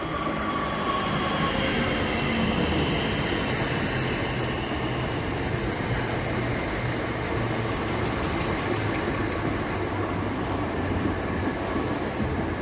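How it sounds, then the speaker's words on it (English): Southeastern electric multiple unit, led by unit 465153, arriving at a station on the way to Sevenoaks: a steady, loud rumble of wheels and traction noise that holds for the whole stretch with no voices. "arriving now is the 1401 Southeastern service to Sevenoaks"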